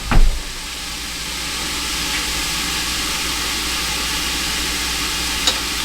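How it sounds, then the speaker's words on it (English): A steady sizzling hiss from rabbit and wild mushroom stew sautéing in a pan continues throughout, with a brief clatter at the start and a faint click near the end. "Go ahead and saute that up a little bit."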